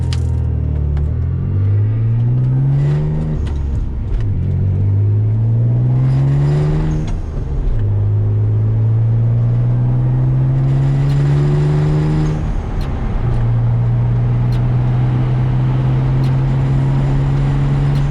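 A Mitsubishi 3000GT VR4 on newly fitted Tein Flex Z coilovers, engine droning from inside as it accelerates through several gears, each shift breaking the rising pitch, loud and continuous with no talk.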